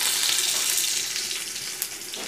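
Sliced sausages sizzle steadily in an overheated frying pan, a loud, continuous crackling hiss with a small pop near the end and no talking.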